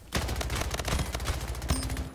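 Rapid, sustained automatic fire from a carbine and SMG in the video game Splitgate, a dense burst of close, loud shots running almost without pause, with a brief sharper accent near the end.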